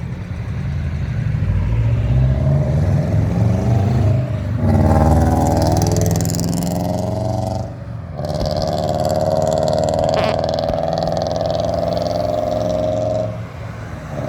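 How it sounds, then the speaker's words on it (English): Cars pass close by on a busy road, engines loud and steady, with a revving vehicle surging and then fading. A clear rising engine note sounds near the end. "it's really noisy because I'm right next to the road"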